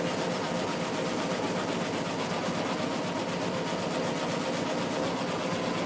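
Sewing machine running a continuous satin stitch around felt, a steady, dense mechanical whir with no pauses, fairly close and alone.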